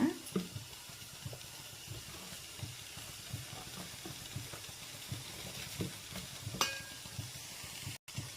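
Dosa batter made from ration rice flour being stirred in a bowl, with soft scraping and swirling strokes repeating steadily at close range, a light kitchen hiss beneath.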